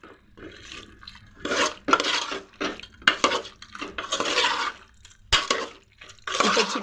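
Marinated chicken stirred into cooked onion and tomato in a pan for chicken biryani, with repeated scraping and clattering of a utensil against the metal in uneven bursts, close and fairly loud, and no talking.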